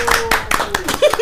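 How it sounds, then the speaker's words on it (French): A few hands clap in short, uneven bursts at a zouk music event, close and fairly loud, mixed in with people talking. "Où est l'applaudissement?"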